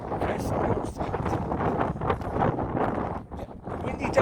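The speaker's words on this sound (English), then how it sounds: "Windy day." Gusty wind buffets the microphone in rough bursts, with a voice talking faintly underneath now and then.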